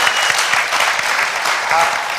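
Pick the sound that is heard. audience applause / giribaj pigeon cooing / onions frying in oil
audience applause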